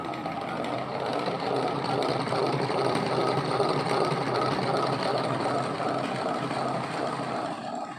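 A hand-cranked honey extractor spinning steadily, giving a continuous close mechanical whir and rattle with a fairly even rhythm that stays loud throughout, no voices.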